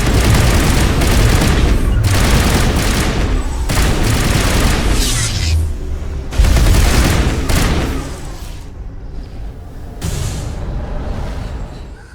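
Sustained gunfire and booming blasts during a firefight in the Mass Effect video game, loud bursts that thin out toward the end, with voices heard amid the shooting.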